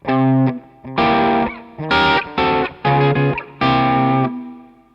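Distorted electric guitar through a REVV D20 amp with power section simulation off, playing chopped chords in short bursts with brief gaps, loud and close, no voices.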